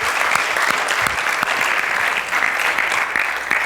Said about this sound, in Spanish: Démosle un aplauso a los profesores.